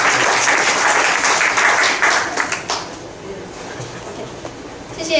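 Audience applause at a maker startup forum after a team's project pitch, loud and steady at first, then fading to scattered claps and room noise.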